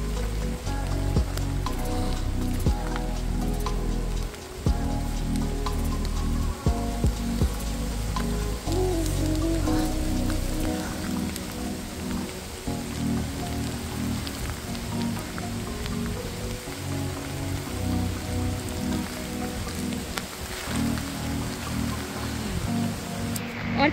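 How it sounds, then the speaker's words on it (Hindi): Heavy monsoon rain pours steadily on a beach trek in Gokarna, a dense wash of drops drumming on surfaces, with occasional louder splatters and a low rumbling undertone throughout. "बारिश हो रहा जैसा कि आप लोग देख रहे हैं"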